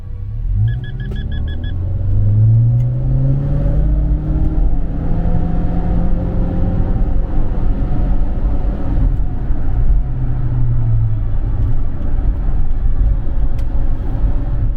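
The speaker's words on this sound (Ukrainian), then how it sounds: "Зараз буде трішки розгін" Turbocharged Subaru Forester XT engine pulling under acceleration, a steady loud drone with harmonics rising and falling in pitch as it revs through gears, heard from inside the car with no talk.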